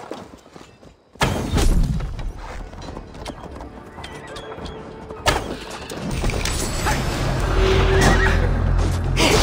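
Horse neighs and clip-clopping hooves in the Assassin's Creed Valhalla video game, with a whinny standing out over loud, continuous game ambience and rumbling low-end sound after a short quiet opening.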